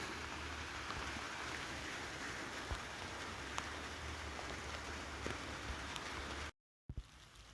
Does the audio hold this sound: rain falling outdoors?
yes